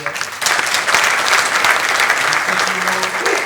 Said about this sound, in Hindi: मैं चाहूँगा उनके लिए जोरदार ताली बजाई जाए